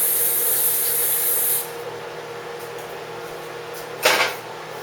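Tap water running over a pepper being rinsed while cooking for a Southern-style low country crab boil, a steady close hiss that drops slightly partway through, then a brief louder splash near the end.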